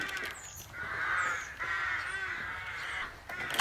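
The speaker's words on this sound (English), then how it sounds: "Think those birds are ever going to croak it?" Crows caw outdoors in a run of repeated harsh calls, some overlapping, at moderate distance with faint background noise.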